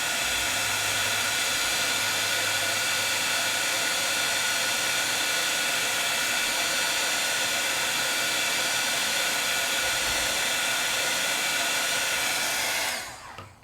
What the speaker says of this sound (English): I'm gonna heat. The plastic's going to feel that heat and it's going to melt itself into gloss.